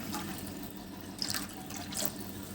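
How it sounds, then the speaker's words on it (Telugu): Water from a glass poured into milk heating in a pan for Ramzan semiya, a steady liquid splash and trickle with brief louder bursts, heard alone without talk. "1 గ్లాస్ వాటర్ వేసుకుంటున్నాను నేను"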